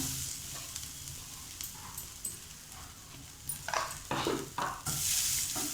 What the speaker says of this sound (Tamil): இதே கடாயில் நம்ம தேங்காவை வறுத்துக்கலாம்.